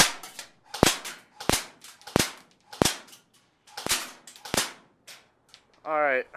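King Arms M4A1 airsoft rifle fired at a target about 30 feet away, several sharp, evenly spaced single shots with quiet gaps between them, followed by a brief voice at the end.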